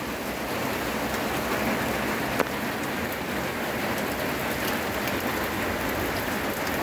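Heavy rain pours steadily on a mountain, a dense even roar of drops with no pauses and one faint knock partway through.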